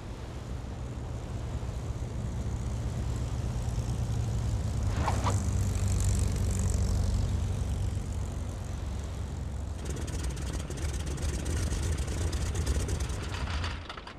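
An aircraft makes an emergency carrier landing in Battlestations: Midway, a droning engine rumble building to a louder pass midway, with a brief sharp clatter before the rumble carries on and cuts off at the end.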